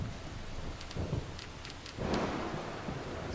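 Rain and rolling thunder in the video game Deadly Premonition, a steady wash of rainfall with a deeper rumble swelling near the end, with no voices.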